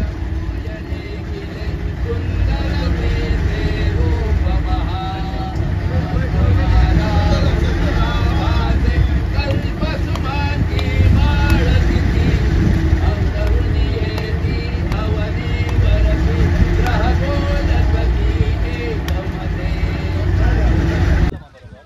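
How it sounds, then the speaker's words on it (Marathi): A motorboat runs steadily on a lake in Tapola near Mahabaleshwar, where three rivers meet, its engine a loud, continuous drone close by for the whole stretch. "बोट नांगरणी चालू आहे."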